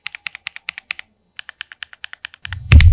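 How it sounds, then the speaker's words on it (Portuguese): Mechanical keyboard fitted with new, taller keycaps being typed on, a quick run of crisp, close keystrokes with a short pause midway, then a louder rumbling thud at the end. "a keycap também faz diferença no som do teclado"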